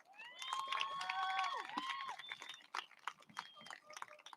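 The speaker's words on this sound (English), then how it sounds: "Give yourselves a round of applause." A Yolo High School Class of 2021 graduation audience applauds and cheers: dense, steady clapping mixed with loud whistles and whoops that swell and then thin into scattered claps.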